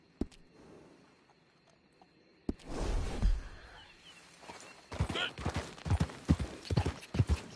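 Horse hooves clip-clop steadily while riding in a video game, a soft rhythmic trot that grows louder and nearer in the second half, with a voice speaking over part of it.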